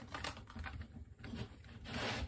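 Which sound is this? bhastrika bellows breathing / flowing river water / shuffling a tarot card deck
shuffling a tarot card deck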